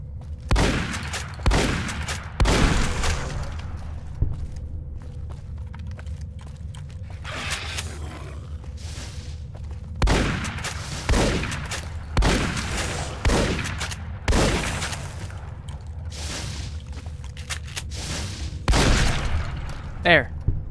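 Shotgun fire in Fallout: New Vegas during the Honest Hearts DLC, a series of loud, sharp blasts at irregular intervals, some in quick pairs, with someone talking between the shots.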